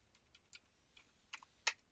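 Sparse keystrokes on a computer keyboard, a handful of faint, close clicks spaced irregularly in near silence.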